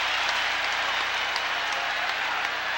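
A college basketball crowd at an Indiana at Iowa game applauding and roaring, a steady wash of clapping and cheering from a large arena audience, continuous and fairly loud.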